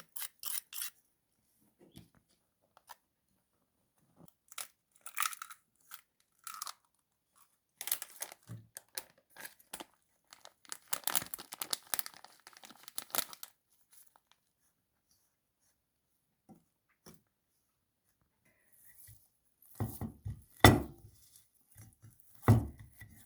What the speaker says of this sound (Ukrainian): Все це змішуємо і замішуємо тісто.